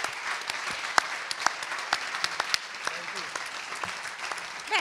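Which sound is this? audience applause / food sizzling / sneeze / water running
audience applause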